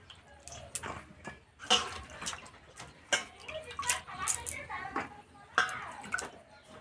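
Cut cauliflower pieces rinsed clean in water, with irregular splashes, drips and light knocks coming in quick uneven bursts close by.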